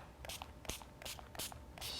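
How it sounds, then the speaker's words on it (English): Short bursty hisses from a spray bottle misting water over paper artwork in a Joan Miró–style art lesson, several quick squirts in an irregular rhythm at close range. "use the spray bottles, lay down some paper, and carefully spray your artwork"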